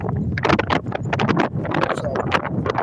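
A horse's hooves clip-clop steadily beneath a rider, close and fairly loud, mixed with wind buffeting and rustling noise throughout.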